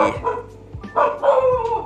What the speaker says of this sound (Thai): โอ้ยหมาเห่าอะไรเนี่ย